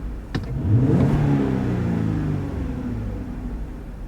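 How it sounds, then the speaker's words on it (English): A Jeep Wrangler JL Rubicon engine revs up sharply and holds at a high, steady drone after the throttle is released, slowly easing down while still growling loudly. "the engine revs and it stays up even after you've let off."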